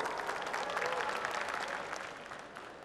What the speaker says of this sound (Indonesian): boleh kita berikan tepuk tangan sekali lagi